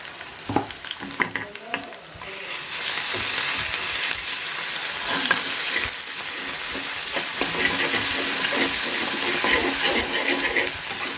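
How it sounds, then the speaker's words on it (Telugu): Ginger paste frying in oil in a pan for a cabbage and egg curry, a loud continuous sizzle with spatula stirring and scraping, close and steady throughout. "పచ్చివాసన పోయేదాకా కొంచెం ఫ్రై చేయాలి దీన్ని"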